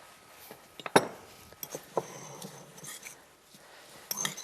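A fork clinks against a dish during preparation of a mussel salad, with a few sharp, light metallic taps spaced apart, the loudest near the start and another small cluster at the end, over quiet kitchen background.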